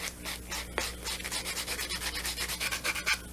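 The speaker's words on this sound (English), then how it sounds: "so we buffing all the shine off" A nail buffer rubs back and forth over a gel-base nail, stripping off the shine in quick, even scratchy strokes, close and steady with no talk.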